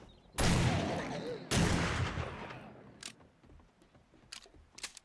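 Weapon handling in 7 Days to Die: two loud gunshot bursts ring out and decay, followed by a few sharp, quieter mechanical clicks and clacks of a reload spaced across the remaining seconds.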